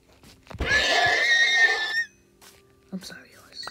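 A horse in the video game Minecraft lets out one loud, shrill whinny lasting over a second. A few faint, brief sounds follow.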